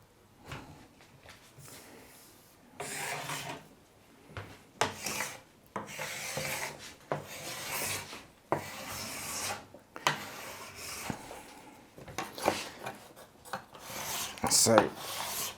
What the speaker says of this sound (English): So we then get this wax scraped off that we just put on.